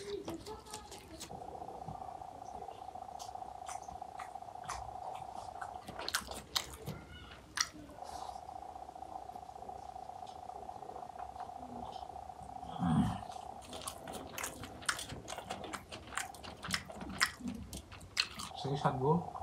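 Chewing and crunching while eating rice, khichuri and a vegetable and leafy greens fry, heard close and under steady talk, with a sustained tonal hum in the background.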